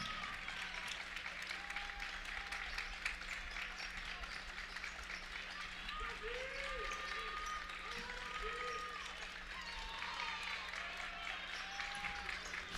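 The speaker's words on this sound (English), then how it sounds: "Some of the crowd is clapping." Bench and crowd clapping in a school gym during a varsity basketball game, scattered steady applause under a commentator's voice, with faint squeaks and floor sounds behind.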